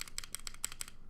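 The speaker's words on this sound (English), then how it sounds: "This spacebar needs help." Close, crisp taps on the spacebar of a custom-built AGAR mechanical keyboard, around seven evenly spaced strikes in about a second, each a sharp clack that fades quickly, with no voices.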